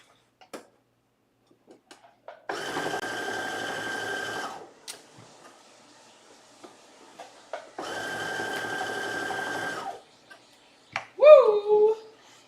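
A sewing machine runs in two steady bursts of about two seconds each, stitching a seam on fabric. A short silence separates the bursts, and a brief voice follows at the end.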